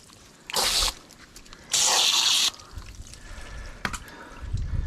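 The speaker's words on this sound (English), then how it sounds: "Rinse out the cavity." Running water rinses the cavity of a cleaned sea bass in two bursts of close, bright splashing, the second one longer, with quieter handling and trickles between and afterward.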